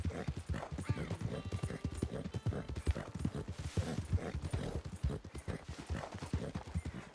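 Steady clip-clop of horse hooves at a trot in the video game Red Dead Redemption 2 Online, rhythmic and fairly close, with faint background ambience and no talking.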